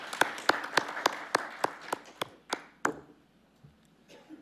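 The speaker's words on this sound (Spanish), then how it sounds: "le pido al auditorio que le dé un amable aplauso" A round of applause from an auditorium audience at a law-teaching panel: about ten crisp, evenly spaced claps over a few seconds, thinning out and fading into quiet room tone.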